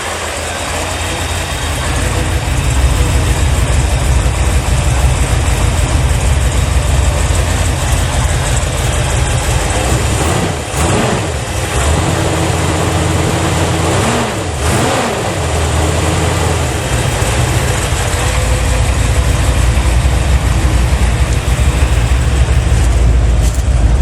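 A 1980 Chevrolet Malibu big block engine, a barn find, running loudly after a cold start, with a steady rough roar and a couple of brief revs partway through, close and continuous.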